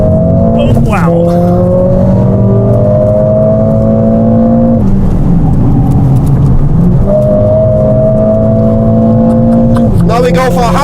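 Mercedes-AMG car driving fast on the Nürburgring Nordschleife test track, with a loud, steady engine drone that rises and shifts pitch through gear changes and dips briefly mid-run before climbing again.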